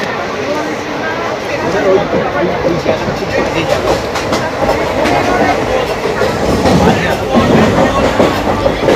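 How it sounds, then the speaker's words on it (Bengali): A special train pulls out of Bardhaman station on the Sealdah–Rampurhat line, with a continuous rumble and clattering of wheels on the rails close by throughout. "বর্ধমান ছেড়ে যাচ্ছে সবে ট্রেন।"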